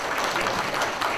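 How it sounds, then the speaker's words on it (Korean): A brief burst of welcoming applause from an audience at a provincial assembly policy forum as a panelist takes the stage, dense and steady clapping heard alone. "환영의 박수로 맞아주실까요?"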